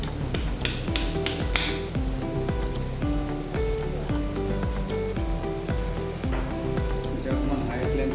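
Chicken lollipops frying in hot oil hiss and crackle in a loud, continuous sizzle with sharp popping bursts, heard up close without speech.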